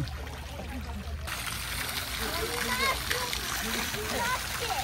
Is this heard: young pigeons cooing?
no